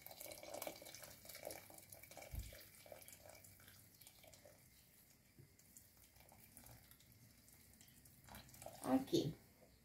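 Tap water running into a pot to cover beans while cooking Brazilian home-style feijão, a steady faint flow with a few drips and splashes, a louder clatter near the end.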